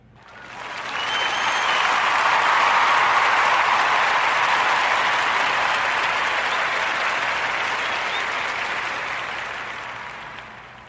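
Sustained audience applause swells quickly, holds as a steady dense wash of clapping for about nine seconds, then tapers slightly at the end, with no voices over it.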